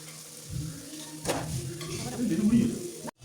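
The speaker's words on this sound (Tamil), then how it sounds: "ஊற வச்ச சிக்கனை இதுக்குள்ள போட்டு வதக்குவோம்" Marinated chicken for biryani sizzles softly in a pan while being stirred, with a scrape and a swell of frying noise midway, faint and fairly close before cutting off abruptly.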